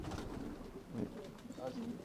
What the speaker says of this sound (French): c'est par passion je fais l'élevage des pigeons de race.